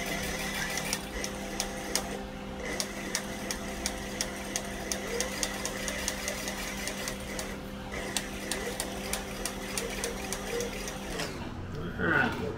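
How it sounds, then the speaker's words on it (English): Leather sling bag being stitched around a zipper on a sewing machine, a steady rapid mechanical chatter running the full length, close and even, slowing near the end as the stitching stops. "I'm going to go ahead and stitch around this zipper."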